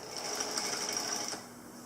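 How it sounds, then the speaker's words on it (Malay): A sewing machine stitches the folded hem of used jeans, a steady close motor whir with rapid needle chatter that runs for about a second and a half before stopping. "Kemudian letak kat mesin jahit, awak jahit."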